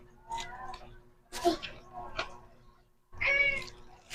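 Cats meow several times indoors at home, close but fairly quiet, with voices in between the calls.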